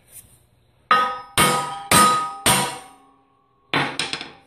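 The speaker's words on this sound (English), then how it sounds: "we just take the hammer" A hammer strikes a tack-welded steel piece to knock it loose during bell making: a single light tap, four sharp ringing metallic clangs in quick succession, a pause, then a final pair of close blows.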